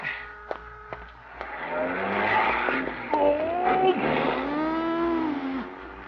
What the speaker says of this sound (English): A lot of traffic today. 4 cars and a bicycle.